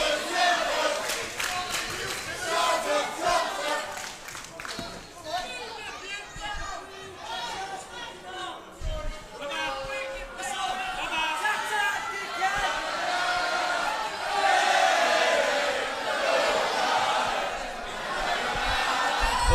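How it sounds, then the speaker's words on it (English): A wrestling crowd at a 1PW anniversary show chants loudly and steadily, a dense mass of voices with cheering swells throughout. "Disrespectful chant."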